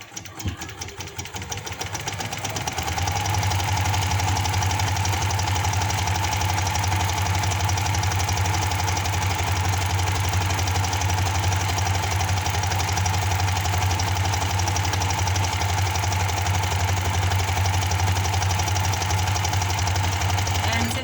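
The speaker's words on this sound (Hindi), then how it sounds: "अब इसी तरह हम इसकी पूरी सिलाई लगा देंगे।" An electric sewing machine stitches a salwar, starting with slow stuttering stitches that speed up within a few seconds into a loud, steady, continuous whir that runs unbroken to the end.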